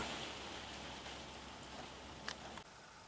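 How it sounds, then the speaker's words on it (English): Steady light rain falling outdoors during wet, mild weather at a DIY garden man cave build, a soft continuous patter with a couple of brief ticks before it cuts off, no talking. "Bloody rain, eh?"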